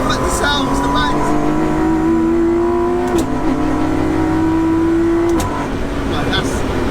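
A BMW E30 with a 2.9-litre stroker engine and air-shift sequential gearbox revs hard from inside the car, its engine note climbing and breaking at each upshift, with sharp bangs between gears and a voice talking over it.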